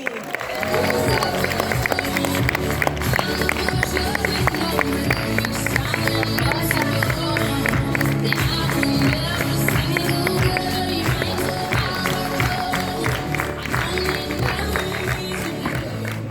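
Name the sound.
audience applause welcoming a speaker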